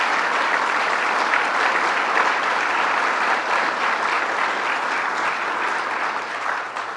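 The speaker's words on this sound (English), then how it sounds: "Let's give him a round of applause." An audience at an official announcement event applauds with steady, dense clapping that holds at an even level throughout and tapers slightly at the end.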